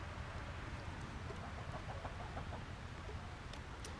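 Chickens on a homestead cluck softly near a compost pile, with scattered short calls over a steady outdoor background, no voices.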